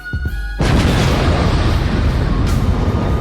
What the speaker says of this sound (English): It's my explosion on deck.